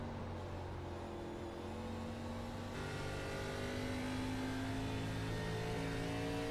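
Race car engine revving hard on corner exit at Phoenix Raceway in an O'Reilly Series sim race, a steady high-pitched engine note climbing in pitch as RPMs rise, loud and continuous with no talk.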